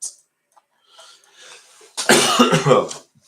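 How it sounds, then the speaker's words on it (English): A short throat sound, then a few faint murmurs, followed by a loud burst of harsh coughing up close. "Sorry about the coughing."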